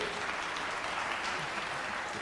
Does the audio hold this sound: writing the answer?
no